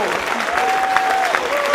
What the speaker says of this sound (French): J'aimerais bien applaudir très très fort, s'il vous plaît, tous les enfants